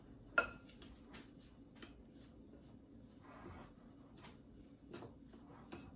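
A metal spoon clinks against dishes while making a vanilla and butter mixture, with one sharp chime near the start followed by scattered light taps and scrapes at low volume.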